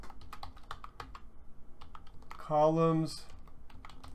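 Quick bursts of computer keyboard typing while a person speaks over it, with a short louder tonal sound near the end.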